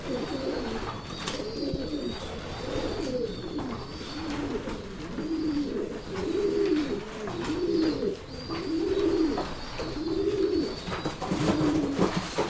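Territorial pigeons coo repeatedly in low, rolling phrases while other birds squabble around them, all close and continuous over a steady background hum.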